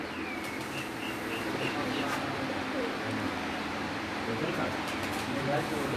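Pigeons coo softly from a breeder's rooftop loft, their calls faint and intermittent beneath a steady broadband hiss and low hum.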